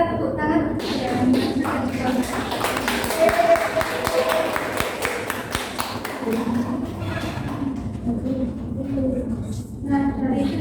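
A classroom group claps together, a steady patter of hand claps running for several seconds with a voice speaking over it.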